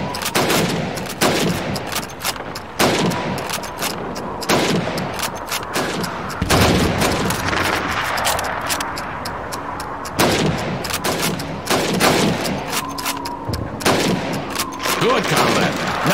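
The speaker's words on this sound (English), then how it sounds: "You have 15 seconds to shoot the helmets." Rifle shots at helmet targets in a Call of Duty Stalingrad training range, a series of sharp, loud reports spaced a second or two apart, with faint voices between.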